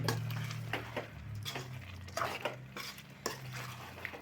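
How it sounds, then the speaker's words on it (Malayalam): Beef curry is mixed and stirred in a pot, with repeated scraping strokes and clinks of a spoon against the metal over a low background hum, fairly quiet and without talk. "എന്നിട്ട് മിക്സ് ചെയ്യുക, ഇളക്കുക."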